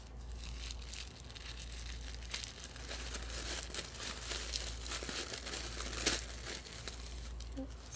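Wrapping on a handmade crafty mail item crinkles and rustles close up in a steady stream of crumpling and tearing sounds, with one sharper crackle near the end and no talk.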